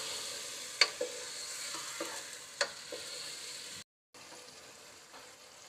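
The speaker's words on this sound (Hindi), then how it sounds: "और अब मैं कुछ देर इस गोश्त की भुनाई करूंगी।" Beef frying in a pot with garlic and ginger for nihari, a steady close sizzle broken by a few scraping stirs, alone with no talking.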